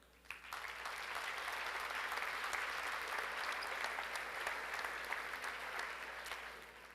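Sustained applause from a large audience at a mayor's annual dinner, a dense, steady wash of clapping that swells in quickly and holds evenly for several seconds without voices.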